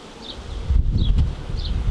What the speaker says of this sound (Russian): пчел не очень много по сравнению с теми, что у меня. Карника, как бы, мне кажется, чуть меньше там пчел.